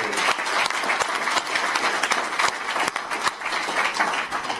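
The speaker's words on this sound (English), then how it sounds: "Can we give a big round of applause?" An audience at a press conference at ADNEC in Abu Dhabi claps in dense, sustained applause, steady and fairly loud for the whole stretch, with no clear speech over it.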